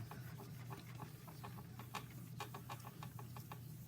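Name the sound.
burnishing polymer clay surface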